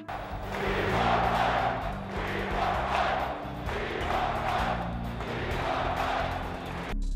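A basketball arena crowd at Michael Jordan's final game in Philadelphia roars and cheers for him to return to the court, a dense, sustained wall of noise from a large audience heard from within the stands.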